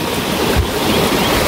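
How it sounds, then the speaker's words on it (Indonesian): Loud, steady rushing of river water beside green rice fields in a South Bandung village in West Java, a continuous broadband roar with no pauses over a brief stretch. "gemuruh air sungai."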